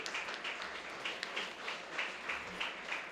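Quiet, steady applause from an audience at a children's day debate event at Gomathi Ambal Matriculation School, a dense patter of clapping that stays even and fairly distant for the whole stretch.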